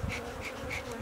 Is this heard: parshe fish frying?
no